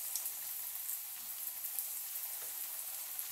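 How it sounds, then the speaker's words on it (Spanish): Frozen croquettes frying in hot oil give a faint, steady sizzle with soft crackles and small pops scattered throughout, no voices. "Y las vamos a freír."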